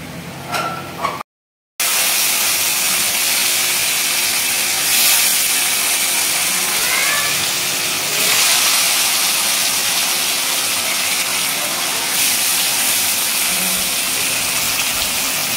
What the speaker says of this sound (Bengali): এই তো লাল লাল করে মাছটা ভাজা হচ্ছে